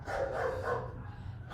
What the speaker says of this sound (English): My dogs.